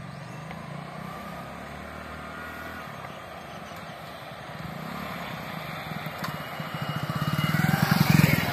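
A new black Hero Splendor motorcycle rides up, its small single-cylinder engine a steady hum that grows louder and rougher as it approaches and pulls in close near the end.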